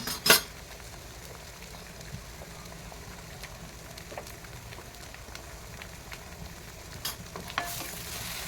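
An egg fries in a pan with salt and garam masala, giving a faint, steady sizzle with an occasional light clink of a utensil against the pan and a sharper scrape at the start and near the end.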